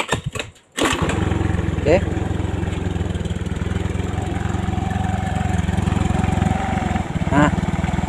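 Fuel-injected Honda motorcycle with a semi-dry replacement battery kick-starts with a brief cranking burst, then settles into a steady, loud idle with a few light mechanical clicks and a short spoken word.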